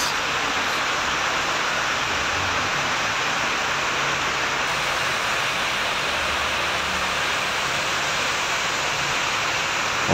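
A steady, hissing rush of compressor oil draining from a Toyota Corolla air-conditioning compressor, running in a continuous stream without a break, with no voices.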